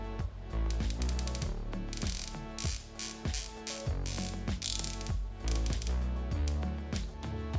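Rotating bezel of a Watch Dives WD1965 dive watch, turned through a long run of dense, rapid ratcheting clicks that stay close and fairly loud throughout, with no talking.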